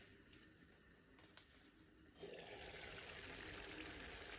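A Moroccan tagine cooking on the heat gives a quiet, steady bubbling hiss that swells noticeably about halfway through and then holds at a constant low level, with no voices.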